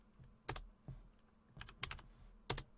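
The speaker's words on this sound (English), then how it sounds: "if I type in a print statement here" Someone types a print statement on a computer keyboard, a few sparse, close key taps and short clusters of clicks spread over a quiet background.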